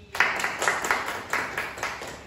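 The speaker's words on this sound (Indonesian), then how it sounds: "Oke, tepuk tangan buat Mas Rangga sama Mas Kavi." A small group of students claps at the close of a guidance session, a short burst of scattered, fairly close hand claps with uneven rhythm.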